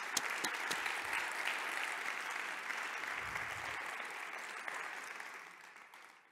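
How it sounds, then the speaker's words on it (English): Audience applause at a talks event fills the room with steady, dense clapping that starts strong, holds for several seconds, then gradually fades toward the end. "Please help me with a warm round of applause."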